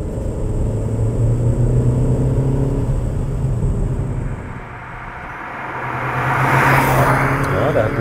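Opel Mokka with a 1.4-litre turbo engine revving on a downshift, a loud sustained interior engine drone that dips briefly then climbs again as revs rise.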